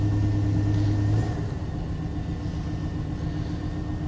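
A Dodge Magnum V8 engine running after a cold start with low oil pressure, a steady close rumbling idle that drops slightly in pitch and loudness after the first second, no talking.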